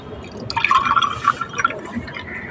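Water poured from a container onto two spots of newly planted seeds in soil, a short splashing trickle that swells and fades over about two seconds, close by and moderately loud, with no speech.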